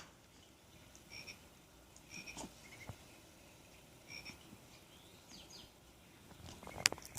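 Frog croaks play from a Fisher-Price Rainforest baby play mat toy, short soft calls scattered against a quiet room, with a brief brighter chirp near the end.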